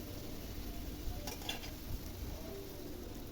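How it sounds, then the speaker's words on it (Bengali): Spices and onion frying gently in a pan in a home kitchen, a low steady sizzle with a few soft stirring clinks and scrapes, faint and continuous with no talk. "ভালো মতো মশলাটা একটু হালকা করে ভেজে নিচ্ছি পেঁয়াজের সাথে"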